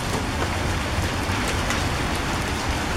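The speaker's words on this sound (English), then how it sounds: "You can definitely hear the hail falling here every so often." Pea-size hail and pouring rain fall in a severe thunderstorm, a dense, steady hiss of drops hitting surfaces close by with faint scattered ticks of hailstones mixed in.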